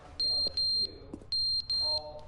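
Shrill smoke alarm beeping in two pairs of sustained electronic tones, close and loud, over low background murmur.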